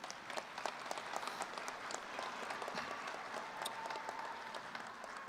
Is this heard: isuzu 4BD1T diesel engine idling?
no